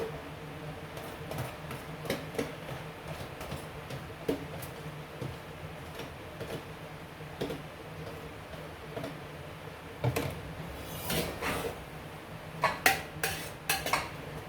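Celery being added to a cooking pot on a home stove, with scattered metallic clinks and taps of utensils against pots and dishes throughout, a few sharper clusters of clatter near the end, no talk.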